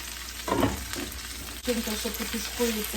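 Onion sizzling and frying in a covered pan previously used for apples, a steady hiss with soft stirring bumps and crackles throughout, close and moderately loud.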